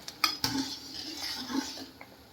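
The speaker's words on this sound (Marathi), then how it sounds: "परत एकदा ढवळून घ्यायचं आहे." Sago pearls (sabudana) cooking into a thick mixture in a pot, stirred with a spoon: a few sharp metal clinks against the pot, then soft scraping and bubbling, close and fairly quiet.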